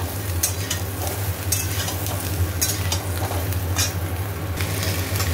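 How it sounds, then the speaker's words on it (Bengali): Cauliflower pieces fry in a pan with a steady, close sizzle and a low hum, while a spatula stirs and scrapes in a loose repeating rhythm, with no voices. "ফুলকপি দিয়ে দিয়েছি, এবার এটা ভালো করে ভাজবো"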